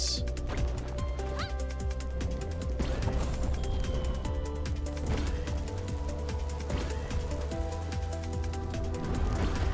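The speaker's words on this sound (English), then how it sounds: "now it's raining ice shards" In the video game HASTE: Broken Worlds, ice shards rain down as a constant patter of small crystalline impacts and crashes. Sharp hits stand out now and then over a droning musical bed, with no pauses.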